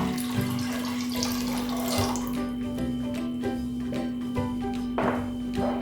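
Steady splashing of half a litre of water running into a pot of saba, continuous and close, with a faint constant hum in the background.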